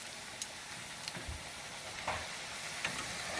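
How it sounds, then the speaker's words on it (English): A corn tortilla dipped into very hot oil for tacos, giving a faint, steady sizzling hiss with a few brief crackles and pops, heard alone without talk. "So we're frying Dipping it in."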